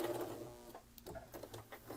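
A sewing machine, turned slowly by hand, stitches a cloth doll with a soft, quiet mechanical whir and light rhythmic taps, faint and close.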